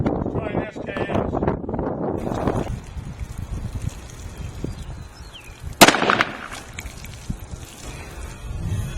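A single sharp report from an SKS rifle firing a hollow point round cracks out mid-clip, fairly distant and outdoors, with brief rumbling tail; someone speaks briefly beforehand and wind noise runs throughout.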